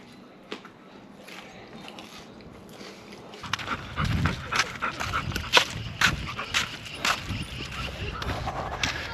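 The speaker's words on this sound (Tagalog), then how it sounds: "pinapasyal muna natin yung mga aso natin" Dogs pant and snuffle close by while being walked outdoors in Edmonton, Alberta, with soft breathing bursts and faint movement noise growing busier partway through.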